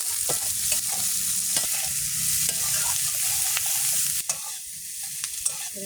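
Chopped garlic and onion sizzling in hot oil in a pan for a fish curry, a continuous close frying hiss with occasional stirring clicks and scrapes, no talk.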